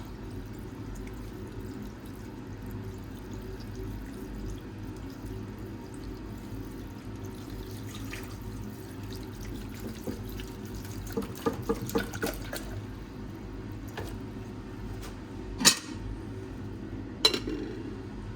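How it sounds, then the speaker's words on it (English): Electrolyte liquid trickles and drips back into a silver refining cell, a quiet continuous trickle over steady background hum, punctuated near the end by a few sharper clinks and splashes. "I'm adding the electrolyte back into the cell."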